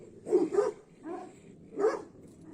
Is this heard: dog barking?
yes